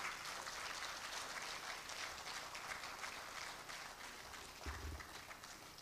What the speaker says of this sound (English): Can we keep applauding him until he gets here?